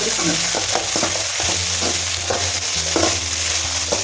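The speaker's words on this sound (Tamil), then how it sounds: "எல்லா பக்கமும் கலவர மாதிரி நல்லா கலரி விட்டுக்கணும் நல்லா கை விடாமல் கிளறிட்டே இருக்கணும்" Potato pieces sizzle and fry in a generous amount of oil in a pan while being stirred continuously, a steady hiss broken by repeated scraping strokes of the spoon, close and fairly loud with no talking.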